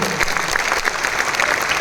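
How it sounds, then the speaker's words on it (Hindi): Audience applause at a heart-health talk in a packed hall, a dense steady wash of many hands clapping that fills the whole moment without letting up. "अपने लिए ही एक बार जोरदार तालियां बजा दीजिए आप लोग"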